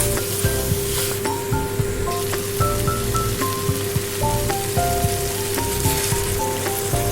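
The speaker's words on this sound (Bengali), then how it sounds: "এবারে দিয়ে দেবো গরম জল।" Hot water poured into a pan of cooking chhana dalna curry with potatoes: a steady hiss and bubbling sizzle like rain on a hot surface, with faint clinks of utensils scattered throughout at a moderate, even level.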